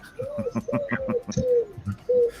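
A pigeon coos close by, a few soft rounded hoots rising and falling in a short rhythmic phrase, alone without talk.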